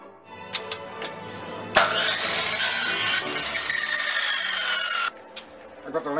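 Wooden drawer borders for a jigsaw puzzle organiser are cut to size for mitering, with a close, continuous sawing and rasping run after a sharp knock and a few short scrapes.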